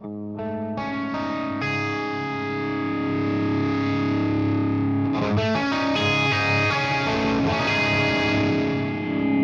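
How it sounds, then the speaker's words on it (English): An electric guitar plays through dry Cornford and Hook amplifiers in stereo, with sustained chords and melodic lines that sound overdriven and thick, ringing out continuously and fairly loud with no delay added. "So that's just the dry amplifier."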